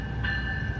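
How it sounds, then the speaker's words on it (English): An Amtrak Capitol Corridor train with a Siemens Charger SC44 locomotive arrives at Oakland Coliseum station, heard as a brief, steady rumble carrying a sustained high tonal whine, fairly loud and close. "here comes the Amtrak Capital Corridor train, 527"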